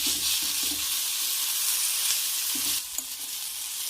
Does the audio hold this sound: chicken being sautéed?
yes